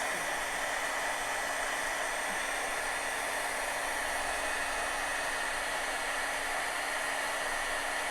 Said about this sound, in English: this particular heat gun's a lot hotter than the usual one I have